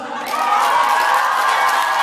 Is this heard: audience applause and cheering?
yes